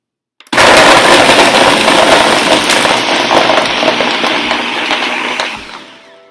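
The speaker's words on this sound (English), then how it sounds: "So we're going to see how easy it is to blend these bananas." A blender runs at full power blending bananas for banana ice cream, a loud, harsh continuous whir that starts abruptly, holds steady for several seconds, then winds down at the end.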